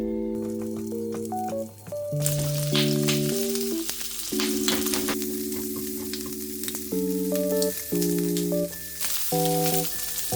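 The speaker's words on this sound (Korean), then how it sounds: "이제 팬에 기름 두르고 비엔나 소세지를 볶아요" Vienna sausages frying in oil in a pan, a continuous bright sizzle with stirring scrapes and pops, heard close under steady background music with no talking.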